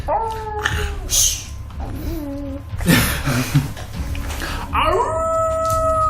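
A person imitates a dog growling and howling during a tabletop role-playing game session, with drawn-out wavering tonal calls rising and falling over a few seconds, fairly close and loud.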